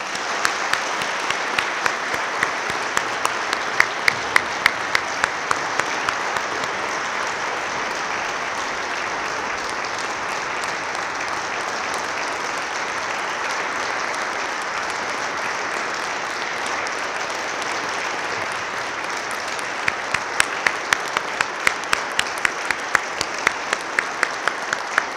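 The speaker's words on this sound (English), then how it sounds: "please join me in a round of applause for our graduating seniors" Sustained applause from a large audience at a Yale ROTC review honoring graduating seniors, steady clapping filling the whole stretch, with a few sharper nearby claps standing out at times.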